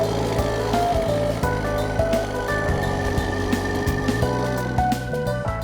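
An old chestnut harvesting machine runs close by, a steady mechanical drone with rattling clatter and intermittent knocks as it vacuums up chestnuts.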